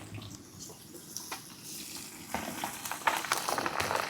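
Ginger, green chilies and garlic frying in oil for a pickle give a soft bubbling sizzle that grows louder and busier toward the end, with a few light taps.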